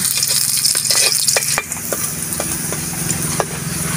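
Garlic and ginger sautéing in a pan with a loud, continuous sizzle, punctuated by a series of sharp spatula scrapes and clicks and a brief dip midway, with nothing spoken.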